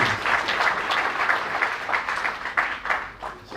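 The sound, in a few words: hand clapping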